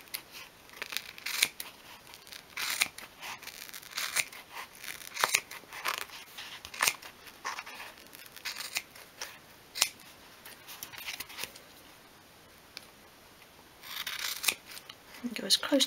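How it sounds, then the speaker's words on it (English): Scissors snip through card for a 1/12 scale model bed in a series of short, crisp cuts at an uneven pace, close and fairly quiet. "I'm just going to cut around the card."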